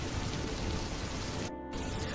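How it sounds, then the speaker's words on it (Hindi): Steady rain falls in a continuous close hiss, with a brief dip partway through before the downpour resumes. "बारिश की बूंदें अब भी गिर रही थी"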